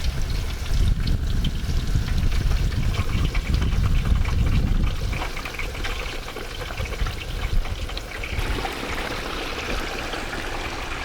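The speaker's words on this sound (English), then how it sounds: "It's already bubbling, so that's why you want to do it slow." A 10-pound turkey being lowered slowly into a pot of already bubbling hot oil, giving a steady loud hiss and seething crackle that shifts in texture partway through, heard alone without talk.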